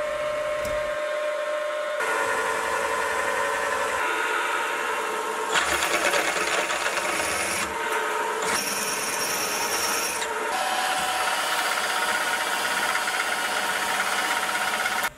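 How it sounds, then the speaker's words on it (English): A metal lathe bracket being drilled and counterbored, with a loud, continuous grinding whine of the cutting tool that shifts pitch and texture as the cut changes, steady and close with no voices. "I can drill and counterbore the three holes in the bracket"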